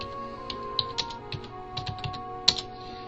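Light, irregular keyboard typing, close and fairly quiet, with scattered key taps and a slightly louder keystroke near the end.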